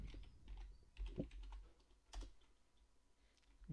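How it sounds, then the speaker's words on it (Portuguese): Keys tapped on a computer keyboard while entering a user's full name during a FreeBSD installation, a few scattered clicks and a couple of stronger presses, close but soft, with no talking. "Eu vou digitar o meu nome, o nome completo."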